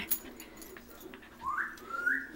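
A small poodle gives faint, high yips and whiny squeaks off to the side, with a couple of short rising cries near the end amid quiet background noise.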